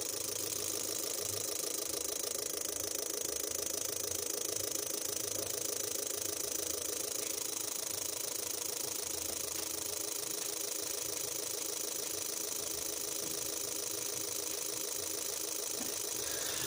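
A Suzuki Ertiga engine, with a throttle position sensor fault (DTC P0122), is started and settles into a steady mechanical idle, a continuous dense ticking and whirring hum that holds evenly for the whole stretch with no talk.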